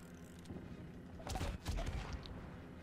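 Warship engine in a naval combat video game, a low steady rumble that swells near the middle with heavier booming bursts, resembling distant gunfire or impacts, over a constant mechanical drone.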